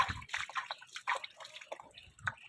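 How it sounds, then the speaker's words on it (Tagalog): Water dripping slowly where piglets are kept during fairly heavy rain, soft irregular drips and small splashes close by and fairly faint, with no talk. "Yan yung tubig nila. Bahagyang tumutulo."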